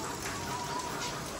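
Steady rain patters on and drips into a poor family's leaking house during the monsoon, a soft continuous hiss with no voices.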